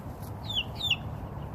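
Chickens at a backyard coop give two short, bright clucking calls close by over a low background hum, with no talking.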